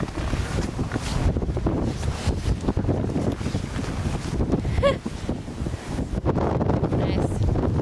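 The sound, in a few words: wind blowing snow during a snowstorm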